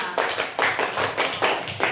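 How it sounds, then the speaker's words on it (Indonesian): Classroom applause for a student group: several hands clapping in quick, uneven bursts at moderate distance, steady throughout with no talk over it. "ayo tepuk tangan buat kelompoknya Karima"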